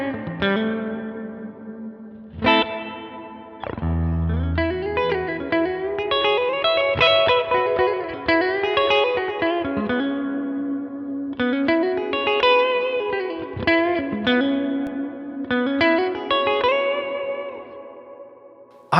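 An electric guitar plays melodic phrases through a Line 6 Helix Retro Reel tape simulator with reverb, warm sustained notes with trailing ambience and a few sharper chord strikes, loud and clear with no talking.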